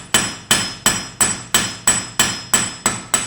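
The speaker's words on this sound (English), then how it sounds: "I will first take a few strikes straight on, and then I use my peen" A blacksmith's hammer strikes hot metal ten times in a steady rhythm, each blow a loud, close, ringing clang that fades quickly before the next. No voices are heard.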